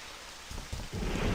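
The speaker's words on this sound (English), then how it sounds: "Light rain pattered against the glass, the gentle noise punctuated by rumbles of coarse thunder" Light rain patters against glass during a summer storm in the video game Trilby's Notes, with low rolls of thunder swelling through the steady rain.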